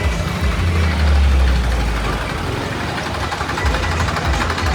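Tractor engines from a large farmers' tractor march held by the Kisan Union Khosa against central farm laws give a steady, heavy low rumble that swells slightly midway. No talk is heard over the engines.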